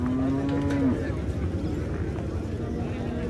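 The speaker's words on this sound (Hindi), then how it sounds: "देखिए जी कितने भारी वजन की भैंस है।" A heavy, pregnant buffalo lows once at a cattle market in Jagraon, a loud drawn-out call in the first second, followed by a steady murmur of market background noise.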